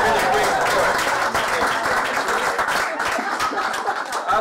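An audience at a magic show claps with loud, dense applause and a few scattered individual claps and light laughter mixed in, holding strong throughout.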